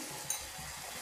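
Puri sizzling in hot oil, a soft steady frying hiss with a small splash-like tick, faint and close, no voices.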